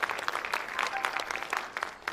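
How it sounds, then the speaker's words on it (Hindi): An audience at an evening tribute event breaks into applause, a dense patter of many hands clapping with a crowd murmur underneath, heard close and steady for a couple of seconds. "इन सब के लिए जबरदस्त तालियां होनी चाहिए।"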